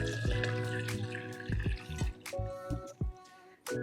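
A milk mixture infused with cloves and cinnamon is poured through a strainer for eggnog, a close trickling and dripping of liquid with small clinks and taps of kitchenware.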